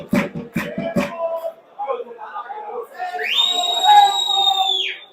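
A referee's whistle sounds in a long, loud blast during an amateur football play-off match in Sicily, following short bursts of crowd noise and voices.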